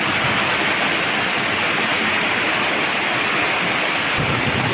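Loud, continuous roar of rushing floodwater after very heavy rain, a dense unbroken wash of noise like a heavy torrent close by, with no talking.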